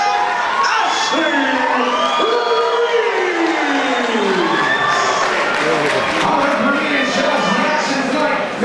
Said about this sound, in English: The crowd is alive for this one, Steve.